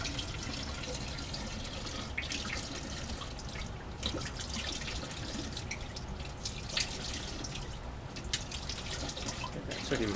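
Water runs and splashes while laboratory glassware is rinsed, a continuous close faucet stream with dripping and sloshing throughout.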